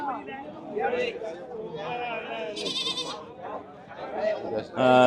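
Goats and sheep bleating at a busy livestock market, several wavering close calls overlapping a steady murmur of talking people, with a loud bleat at the end.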